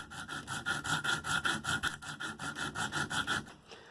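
An M4 Manix knife tip is ground on a KME sharpener, a steady rhythmic rasping of steel drawn back and forth on an abrasive stone, about a dozen close, even strokes before it stops.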